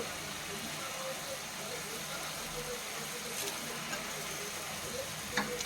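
Chillies fry in a pan for paneer kofta masala, a continuous close sizzle with faint bubbling and a voice faintly underneath.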